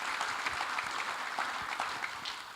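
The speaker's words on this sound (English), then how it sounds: "So I think Neil Farnsworth, give him a round of applause for doing that." Audience at an evening event with Alan Hinton gives a steady round of applause, fairly soft and a bit distant, with dense overlapping claps throughout.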